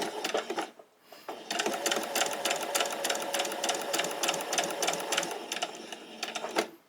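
A sewing machine stitches fabric for a pleated top: a short burst, a brief pause, then a long, fast, close mechanical rattle of rapid needle strokes that ends abruptly.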